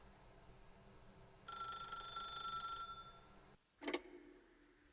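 A telephone in the video game The Stanley Parable rings once as a short, bright electronic bell burst, then stops; after a pause comes a brief thump or click, like a receiver being picked up.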